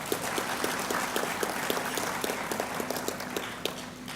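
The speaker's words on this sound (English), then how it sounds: "and I would like us to applaud Dr. Lopez once again." A conference audience at an African regional meeting applauds steadily, many hands clapping in a sustained, moderately loud wash with individual claps audible near the front.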